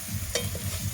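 Garlic paste frying with onions in oil, a close steady sizzle with a spatula scraping and stirring against the pan, one brief tap of utensil on metal.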